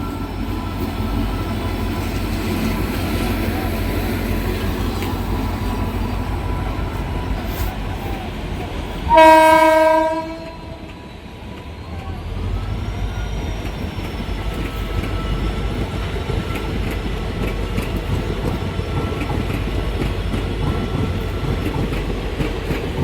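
A WAP-7 locomotive hauls the Lalgola passenger train past Baharampur Court railway station, a steady rail rumble running throughout, broken by one loud horn blast midway that fades back into the rolling noise.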